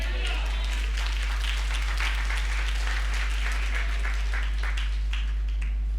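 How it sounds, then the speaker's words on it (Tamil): A church congregation claps hands during a Sunday service, a dense, rhythmic run of claps under a preacher's voice speaking over a low steady hum. "கைத்தட்டுங்க பார்க்கலாம்."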